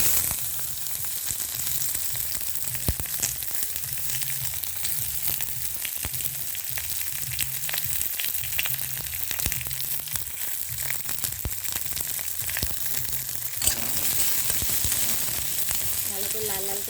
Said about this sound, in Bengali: ভালো করে লাল লাল করে পেঁয়াজগুলো ভেজে নিতে হবে।